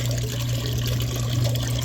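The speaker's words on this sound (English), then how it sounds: "Alright, so washer's going." Washing machine running while washing wool, filling with a steady rushing, trickling flow of water and a low mechanical hum, loud and continuous.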